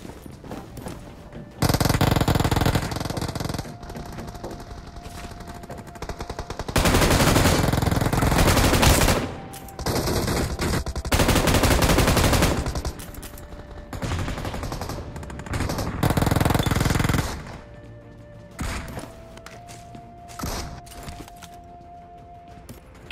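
Gunfire in the mobile battle royale game BGMI, with several loud sustained bursts of automatic fire separated by quieter stretches of game ambience and faint tones, no talking over it.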